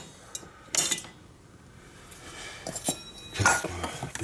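Dishes and utensils clink a few times while being washed and cleared away after mixing a homemade joint ointment, in short separate bursts against a quiet kitchen background.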